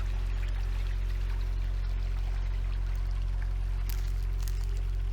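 A forest river flowing past tree-lined banks produces a steady, continuous rushing and pouring wash, close and even in level throughout, with no voices.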